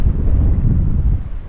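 Wind blowing hard across the microphone on a gusty day by the water while float fishing with a waggler, a loud continuous low buffeting rumble with no talk.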